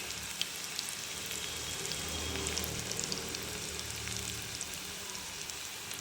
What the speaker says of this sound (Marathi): किती छान तळलं चाललं आहे बघा बरं.